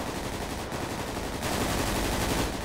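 Dense gunfire in a shooting video game, rapid automatic bursts that run continuously and loudly, filling the whole stretch without a break.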